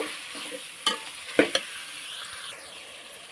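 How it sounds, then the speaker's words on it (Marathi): Chicken with turmeric and salt is being sautéed in a pan, giving a soft steady sizzle with a few sharp scrapes and clinks of a spoon against the metal, all at close range and with no voices. "परतून घेते त्याला."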